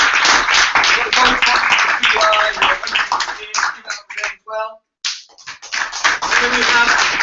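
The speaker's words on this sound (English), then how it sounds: "Clap, clap, clap now." An audience at a Friday pitch event claps in sharp, uneven bursts mixed with voices and shouts, close and loud, with a short lull midway before the clapping and chatter pick up again.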